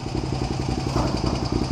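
A motorcycle engine idles close by with a quick, even chugging pulse, steady and unbroken with no talking.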